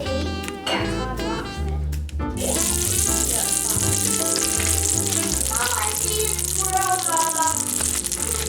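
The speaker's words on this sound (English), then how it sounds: "We're gonna heat the ham up in this pan." Loud, steady sizzling of ham heating in a frying pan, rising suddenly after a couple of seconds and continuing, with voices and clatter mixed in.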